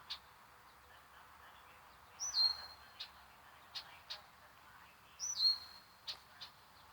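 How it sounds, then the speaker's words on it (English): A catbird calling outdoors: two short rising whistled notes a few seconds apart, each followed by several brief sharp chirps, fairly faint over a quiet background. "I think that's a catbird making that sound"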